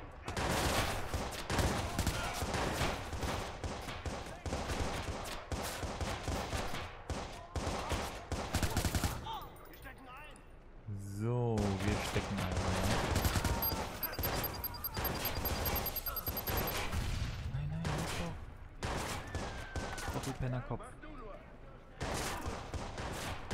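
Dense bursts of rapid gunfire from the video game Watch Dogs, loud machine-gun volleys filling most of the stretch, with a brief quieter gap in the middle and someone talking over the shooting.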